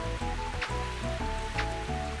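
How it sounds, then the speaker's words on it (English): Steady rain patter from the Mario Golf video game plays as an even background wash of noise, with game music tones layered underneath. "Rain."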